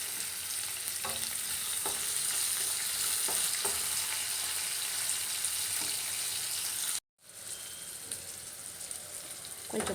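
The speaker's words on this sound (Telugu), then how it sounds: "2 ఎండుమిర్చి తీసుకుని ఫ్రై చేసుకోవాలి. ఇందులో చిన్న చిన్నగా ముక్కలుగా కట్ చేసుకున్న అల్లం, ఉల్లిపాయలు యాడ్ చేసుకోవాలి." Dried red chillies, ginger and onions fry in a pan with a steady, bright sizzle that runs throughout, broken by a brief silent gap near the end before the frying resumes.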